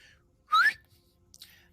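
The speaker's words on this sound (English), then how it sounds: "As she whistles," A woman gives a short whistle to call someone, a single rising tone lasting about a quarter second, fairly loud against near silence, followed by a faint brief sound.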